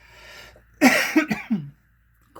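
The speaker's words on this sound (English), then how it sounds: "I'm really sorry if I have to cough or clear my throat, you guys." A woman coughs heavily a few times close to the microphone, with throat-clearing rasps between the coughs, then a short pause ends in a faint click.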